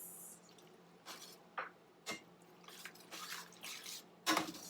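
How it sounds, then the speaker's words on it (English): Lemon juice poured into a creamy garlic sauce on a stovetop with the flame off, heard as a few soft, brief wet drips and squishy splashes, faint and close, with no talk. "turn my flame off and add the lemon juice"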